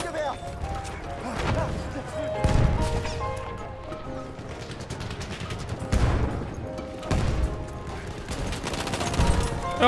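Glock 18 pistol fire in the World War 1 video game Battlefield 1 cracks out in repeated rapid bursts among in-game crashes and mechanical clatter, with a voice talking at times over the action.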